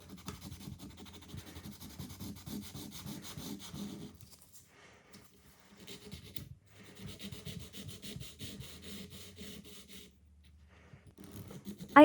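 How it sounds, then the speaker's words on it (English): A nail file rasps across a clear gel nail extension in quick, soft rhythmic strokes, in two long runs of scratching broken by short pauses, close and fairly quiet. "I also file the clear gel."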